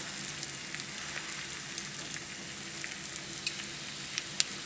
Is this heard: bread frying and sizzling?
yes